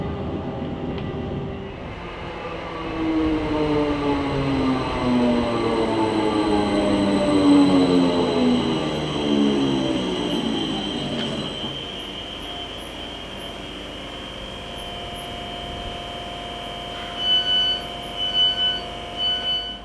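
A train rumbles and rolls along the rails, its noise building to a steady roar, then easing as it slows approaching South Woodham Ferrers station on the Wickford to Southminster line, with a brief rattle of clatter near the end.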